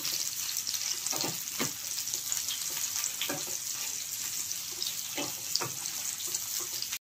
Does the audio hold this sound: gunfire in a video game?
no